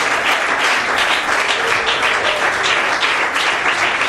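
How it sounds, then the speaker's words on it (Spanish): A church congregation breaks into loud, sustained applause, dense overlapping claps from many people filling the room without pause. "Un aplauso a Dios por esa alegría"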